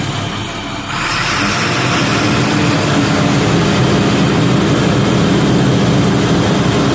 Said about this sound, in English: So if I turn on the PTO, I'm going up to 20 PSI, but if I turn up the high idle